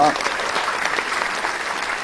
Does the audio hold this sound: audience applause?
yes